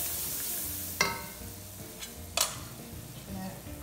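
Peppers stirred into a gumbo pot, a soft steady sizzle under two sharp scraping clanks of a spoon against the pot, with a few quieter scrapes later and no voices.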